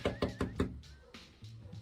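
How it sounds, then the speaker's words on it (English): Knuckles rap on the door of a house: four sharp, evenly spaced knocks in quick succession, then quieter faint bumps, with no voices. "Me knocking on their door because I'm a civil human being."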